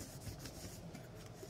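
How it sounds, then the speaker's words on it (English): Hand rubbing paper across an inked collagraph plate gives a steady, soft close-up friction hiss that holds evenly throughout, with no talking. "Use either your palm of your hand to rub, or you can use a spoon"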